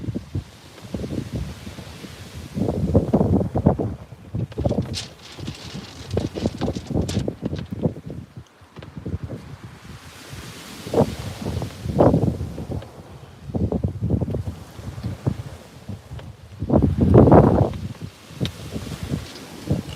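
Wind gusts outdoors, rising and falling in rustling waves over about twenty seconds, with occasional buffeting against the microphone and no talk.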